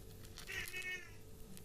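A kitten gives a single short, faint meow over a low steady background hum, with nothing else happening around it.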